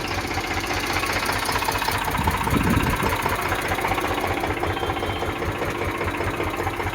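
A tractor's diesel engine idles steadily nearby, a continuous low chugging rumble with a faint rattle, no voices.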